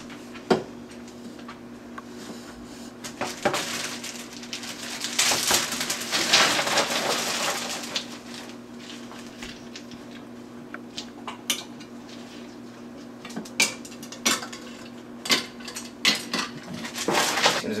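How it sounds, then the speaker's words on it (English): Ice clattering and crunching as it is poured into a plastic slush mug up to the fill line, a loose rattling burst in the middle with scattered clinks of cubes settling before and after, close and fairly quiet. "Now we're going to fill it up with ice all the way up to the ice fill line."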